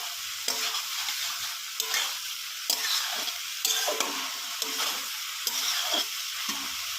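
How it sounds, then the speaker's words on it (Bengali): Soybean chunks, potatoes and spices sauté in a pan for a vegetarian soybean curry, with a continuous sizzle cut by regular scraping strokes of a spatula, about a stir every second, close and fairly quiet, no talking. "ভালো করে কষিয়ে নেব।"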